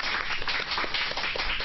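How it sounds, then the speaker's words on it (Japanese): A gallery audience at a comedy competition claps in a dense, rapid patter of many hands, steady and fairly close throughout the short stretch with no speech over it. "異常な数の拍手がなんか聞こえてるんですが"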